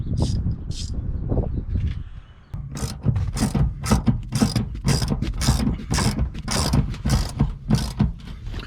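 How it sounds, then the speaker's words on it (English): A ratchet tightening the seat belt nuts inside the cab of a 1992 Chevy C1500 pickup, first a few slow clicks, then a fast, steady run of loud, close rhythmic ratcheting clicks. "I'm gonna take the nuts for the seat belts. I'm gonna tighten those down first."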